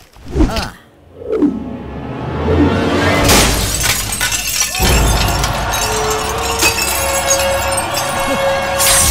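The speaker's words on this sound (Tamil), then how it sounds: "கண்ணாடி ஏண்டா உடைச்ச?" Glass shatters in a fight scene: a first crash, a second breaking burst, then a long loud spray of shards and clinking debris that lingers for several seconds, with no speech.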